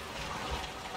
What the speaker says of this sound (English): But it pops out water.